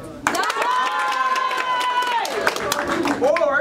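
A live improv comedy audience claps and cheers together to cast a vote, producing a dense, steady wash of applause while a voice carries over the crowd noise.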